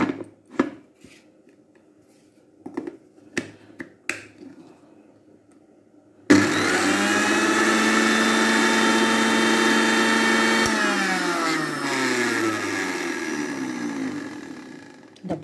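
A mixer grinder grinds the ingredients for Andhra tomato pickle. It starts abruptly after some quiet clatter and talk, then keeps up a loud, steady motor whine for about nine seconds before winding down.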